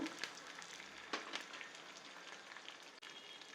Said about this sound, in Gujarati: અને વઘારને સરસ રીતે તતડવા દઈશું.